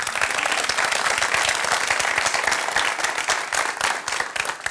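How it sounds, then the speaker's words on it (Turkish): An audience at a Turkish talk event breaks into loud, dense applause, many hands clapping in a steady roar that holds throughout and thins slightly near the end. "Hakikaten bir alkış alabilir miyiz?"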